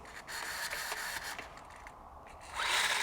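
The steering servo of a vintage RC car left in a bag for 30 years whirs in short buzzing bursts, stopping and restarting, then ends in a louder sustained whine, close up.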